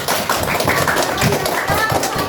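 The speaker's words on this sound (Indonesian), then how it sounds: "Kita kasih tepuk tangan dulu ya buat semuanya." A primary school class of children clapping together, a brief burst of scattered close hand claps mixed with voices talking.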